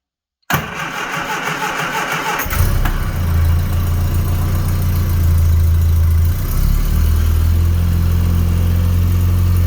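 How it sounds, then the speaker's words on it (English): A 1979 Triumph Spitfire is cold-started on a 25-degree day: a short cranking churn, then the engine catches and settles into a loud, steady low idle that carries on to the end. "What do you say we give this guy a 25-degree cold start?"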